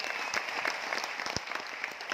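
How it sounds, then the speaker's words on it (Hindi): Seated audience in a hall claps hard on request, a brisk, dense round of applause with sharp individual slaps standing out, steady and loud throughout. "मर्दों वाली ताली बजाइए"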